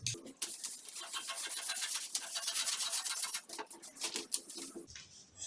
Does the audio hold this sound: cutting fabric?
yes